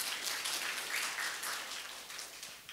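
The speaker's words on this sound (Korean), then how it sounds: "박수로 환영 부탁드립니다." An audience at an ad tech conference applauds to welcome the next speaker, a steady wash of clapping that stays fairly soft and distant for the whole stretch, with no voices on top.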